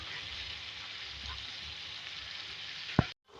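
Peas fry in a pan, giving off a steady, close hiss of sizzling oil that runs evenly, then a single sharp clack near the end before the sound cuts out, with no one speaking.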